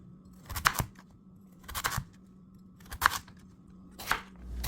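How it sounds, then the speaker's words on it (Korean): A knife cuts a large radish into half-moon slices on a cutting board, giving four separate, close, crunchy chops spaced about a second apart under a faint steady hum, with no speech. "무는 반달썰기로 큼직하게 썰어줬어요."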